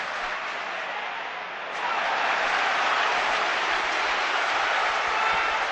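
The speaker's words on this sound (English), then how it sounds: "Well, you can see or hear the response of the Birmingham crowd." A Birmingham City home crowd reacting to a challenge by Damian Johnson in a 2005-06 match against Aston Villa: a broad, far-off roar of many voices that swells after about two seconds and holds steady.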